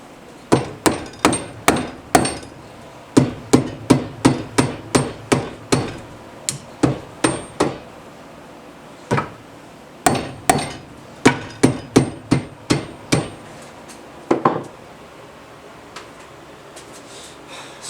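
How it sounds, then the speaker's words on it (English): A rubber mallet pounding on a Porsche 911 front wheel hub, dozens of dull close blows in fast rhythmic runs separated by short pauses. "rubber mallet."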